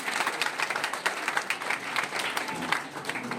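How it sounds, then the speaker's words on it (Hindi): An audience at a rural medicine foundation's anniversary celebration applauds, steady dense clapping with a fast, even rhythm filling the whole stretch, fairly close and lively. "हम लोग ताली बजा रहे हैं"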